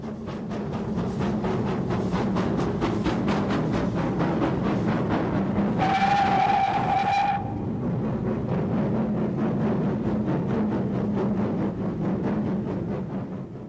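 The GWR King class steam locomotive King George V running in 1988, with a steady, even, rhythmic chuff that carries on throughout and a clear whistle blast for a second or so midway.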